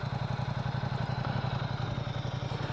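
A motorcycle engine idles nearby with a steady, rapid low thumping pulse and faint mechanical clatter, even and continuous with no voices over it.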